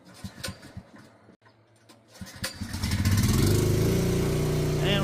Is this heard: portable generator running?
yes